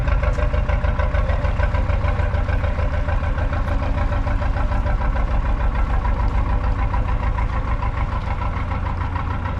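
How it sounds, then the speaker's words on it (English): A canal fuel boat's diesel engine chugs steadily at idle, a continuous low rhythmic thrum with no voices over it. "What a lovely sound on that engine on that fuel boat."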